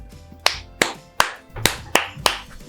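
Seven single hand claps, sharp and close, spaced roughly a third of a second apart, each ringing briefly in a room with no talk over them.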